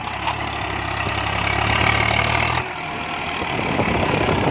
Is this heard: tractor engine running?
yes